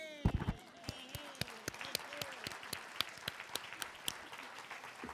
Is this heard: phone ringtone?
no